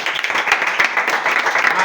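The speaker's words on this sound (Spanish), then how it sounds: "¿Puedes aplaudir a Dios?" Church congregation applauding during a sermon, a loud, close burst of clapping with some individual sharp hand claps standing out and voices mixed in.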